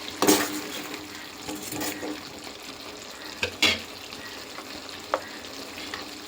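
Chicken curry gets stirred in a pan after its liquid has cooked off: a constant sizzle of frying runs underneath scraping spoon strokes and a few louder clacks against the pan.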